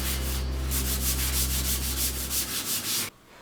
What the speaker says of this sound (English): And then some hand sanding to finish.